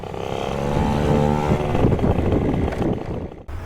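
A Yamaha Jog scooter fitted with a 70cc Polini Corsa engine running at low speed, a loud close buzzing two-stroke drone that swells slightly, then drops away near the end.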